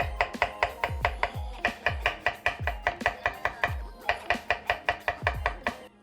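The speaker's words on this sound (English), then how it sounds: "Mushrooms, just slice those up." Mushrooms sliced with a knife on a cutting board for a West African peanut sauce, a brisk, regular series of sharp thunks close by, with a few short pauses between runs of cuts.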